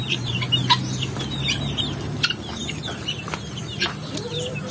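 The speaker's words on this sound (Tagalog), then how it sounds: "Tingnan niyo natin mga ibang mga sisiw mga kabukid doon sa kabilang nito." Three-day-old chicks chirp on a native chicken farm, a scatter of high peeps close by over a low farmyard hum, with occasional clucks from older fowl.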